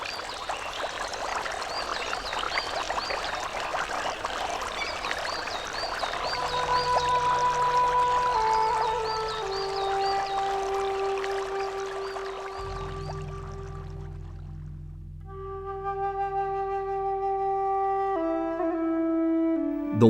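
Water rushes and pours steadily over travertine rock, a broad splashing flow, with sustained musical tones joining in partway through.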